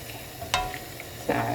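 Radish is stir-fried in a pan in its own water, giving a soft, steady sizzle under two brief scraping stirs of a utensil against the pan, close and fairly quiet.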